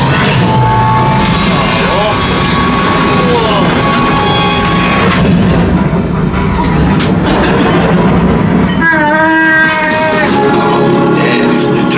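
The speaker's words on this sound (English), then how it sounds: "There is the train." Train effects on a Star Wars-themed ride at Disney's Hollywood Studios, a loud rumbling, clattering onboard soundscape with booms and mechanical noise running continuously, mixed with music and narration voices.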